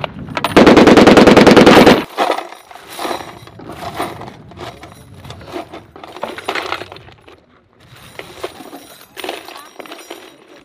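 Heavy machine gun firing a loud, rapid sustained burst of about one and a half seconds at close range during U.S. Air Force Security Forces weapons training, followed by quieter clanking of equipment and people talking.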